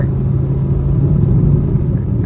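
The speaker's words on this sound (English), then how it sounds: "I'm overtaking this car" A car engine rumbles steadily from inside the cabin while overtaking another car on a road, a low continuous drone with no speech.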